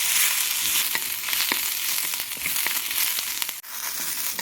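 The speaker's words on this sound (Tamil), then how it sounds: "இது மிளகாவையும் போட்டு நம்ம நல்லா வதக்கிடலாம்." Green chillies and zucchini sautéing in a pan, a bright continuous sizzle with crackling pops and periodic stirring scrapes, close and fairly loud, briefly cutting out near the end.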